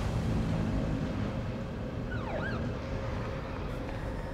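An ambulance siren wails in The Evil Within, its rising and falling tone sweeping briefly over a loud, dense rumble of ambient game noise and vehicle sound, with no voices.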